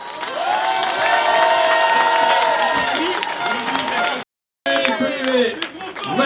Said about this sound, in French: applaudissements pour l'USPC